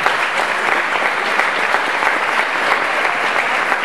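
A school graduation audience breaks into steady, dense applause, many hands clapping evenly throughout with no voices over it.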